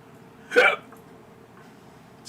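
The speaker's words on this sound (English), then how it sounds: "Didn't mean to burp on you." A single short, abrupt burp bursts out near the start, close and fairly loud, then fades to quiet room hush.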